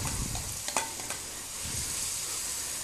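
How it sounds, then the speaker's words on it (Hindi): Grated carrots stirred and fried in a pan for gajar halwa, a steady close sizzle with a few spatula scrapes and knocks early on. "हिलाते रहेंगे, भूनते रहेंगे जब तक ये अच्छी तरीके से पक ना जाए।"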